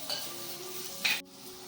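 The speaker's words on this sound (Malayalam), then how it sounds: "ചക്കപ്പാടയും ചേർത്തിട്ട് നന്നായിട്ടൊന്ന് ഇളക്കി കൊടുക്കാം." Jackfruit fiber for a jackfruit seed and fiber stir-fry (mezhukkupuratti) sizzles in a pan as it is stirred: a steady, close frying hiss that swells briefly, then cuts off abruptly.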